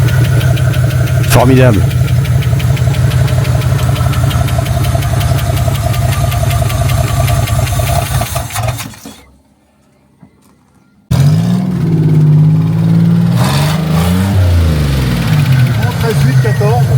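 A Buick engine idling on its first start, a loud, close, steady rumble with rhythmic knocking pulses, briefly dropping out before resuming, while someone talks over it.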